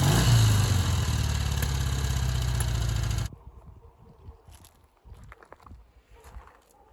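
Close idle of a 1960 US-spec Triumph Bonneville motorcycle engine, loud and steady for about three seconds before cutting off abruptly, leaving faint scattered handling noises.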